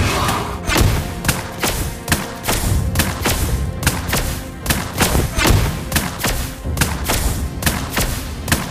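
Rapid gunfire from the marksman hero Lesley in Mobile Legends, a steady stream of sharp repeated shots and thuds over busy in-game sound effects.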